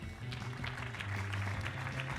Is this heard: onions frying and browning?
no